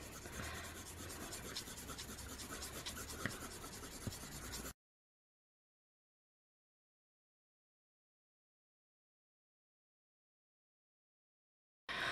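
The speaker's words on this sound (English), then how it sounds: "So I'm gonna color it again this way with a pure red pencil." A red colored pencil scratches and rubs across journal paper, making a close, continuous rasping stroke for several seconds before cutting to silence. A brief burst of sound returns at the very end.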